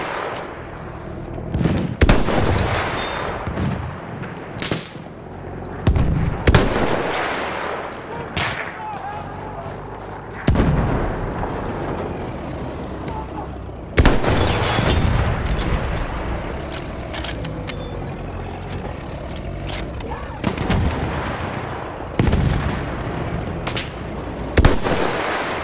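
Bursts of machine gun and rifle fire in the World War I shooter Battlefield 1 crack out at irregular intervals over a rumbling battlefield, loud sharp volleys separated by quieter stretches, with occasional voices under the din.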